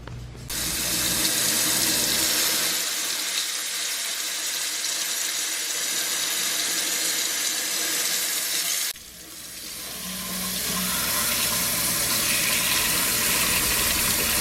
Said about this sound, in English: You can see the water running through it.